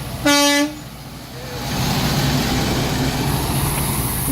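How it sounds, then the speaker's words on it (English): One short, loud truck horn blast sounds near its start, then fades out as a vehicle rumbles on steadily. "Honk."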